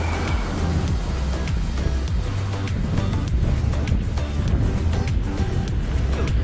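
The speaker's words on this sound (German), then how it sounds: "Die ganzen Autos aufpassen." Cars rushing past on an Italian road between Verona and Padova while cycling with a dog, a steady loud traffic roar mixed with heavy wind buffeting the microphone.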